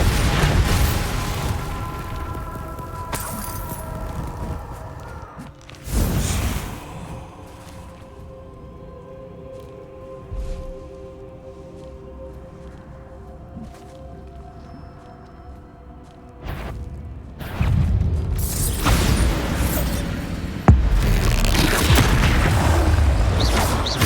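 Bombarda spell blasts in the video game Hogwarts Legacy, a few loud booming bursts with a heavy impact near the start and more sustained explosive rumble toward the end, separated by quieter ambient game sound.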